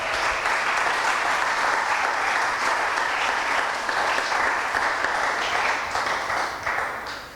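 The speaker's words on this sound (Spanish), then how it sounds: "denle un aplauso al Señor" A church congregation at a Sunday service gives loud, sustained applause, many hands clapping close and evenly for about seven seconds before it fades out at the end.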